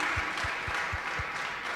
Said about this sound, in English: Congratulations once again and applause.